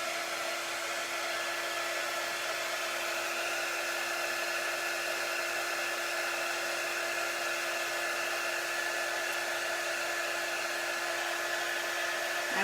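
Hair dryer blowing steadily on freshly painted surface, a loud continuous whirring hiss with a constant whine, running uninterrupted and close throughout.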